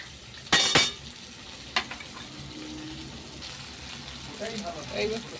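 Shrimp with ginger and tomato hits a hot pan of onion and green chilli with a sharp, loud sizzle burst, then settles into steady frying with stirring clinks while someone talks.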